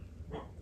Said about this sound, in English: can hear my little dog barking in there